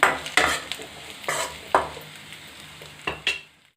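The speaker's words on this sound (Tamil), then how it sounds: "நல்லா ஒரு நிமிஷம் நல்லா வதக்கிக்கோங்க" Squid sautés with grated coconut in a hot pan, giving a soft sizzle under repeated scraping strokes of a spatula against the metal, several sharp stirring bursts spread across a few seconds.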